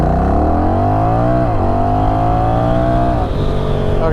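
Honda Rebel 1100 motorcycle under hard acceleration, loud close engine note climbing steadily in pitch, dropping twice at gear changes before rising again, with no voices.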